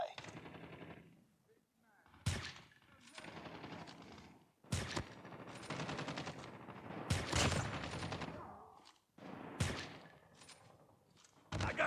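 Bursts of automatic gunfire from the mobile shooter Call of Duty Mobile, with sharp, loud volleys separated by brief pauses and a long rattling stretch in the middle. No one speaks.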